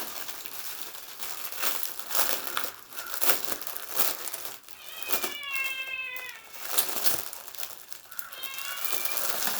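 A cat meows in a few clear, rising calls in the second half, set against steady crinkling and rustling of a bag or packaging being handled nearby.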